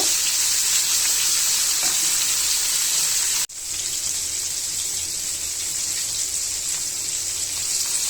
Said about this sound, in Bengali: মাছটা সুন্দর মতো ভাজা হচ্ছে